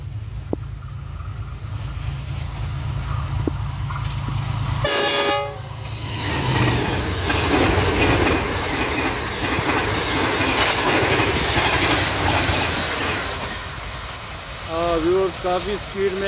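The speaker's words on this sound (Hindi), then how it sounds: "Green line 5 up train साधुकर railway station से गुजरने वाली है।" A GEU 20 locomotive hauling the Green Line 5 Up train speeds through Sadhoke railway station, a loud steady rumble and clatter of wheels on rails with a horn sounding briefly near the start; no talk.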